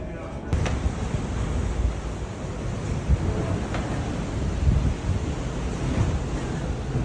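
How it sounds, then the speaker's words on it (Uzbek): Sea waves and strong wind at the ocean, a continuous heavy rushing roar with gusty buffeting against the microphone, steady throughout. "To'lqin ovozlarini eshityapsizlarmi?"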